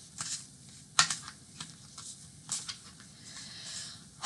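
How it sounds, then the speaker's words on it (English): A deck of cards being shuffled by hand, heard as quiet, irregular papery clicks and a soft patter in a still room. "So we're just going to shuffle the cards."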